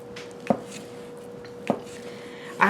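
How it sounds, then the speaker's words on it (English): A knife chops thin beef steak slices into small pieces on a board, three separate crisp thuds spaced about a second apart over a faint steady hum. "I'm going to cut them into really small pieces"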